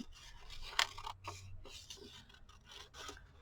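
Scissors fussy-cut around a paper embellishment, giving quiet close-up rasping snips with one sharper cut near the start and softer rubbing paper sounds after it.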